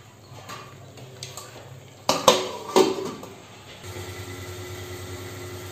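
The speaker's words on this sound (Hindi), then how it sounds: "अब इसको कवर करूंगी।" A lid goes onto a pot of frying chole masala with two sharp metallic clanks, close and loud, then a steady low hum from the stove carries on underneath with no talking.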